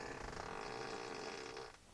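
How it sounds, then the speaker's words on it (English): A Tesla's novelty fart-mode sound effect plays a drawn-out, buzzing flatulent tone for nearly two seconds before cutting off abruptly, fairly faint. "there's the ludicrous fart"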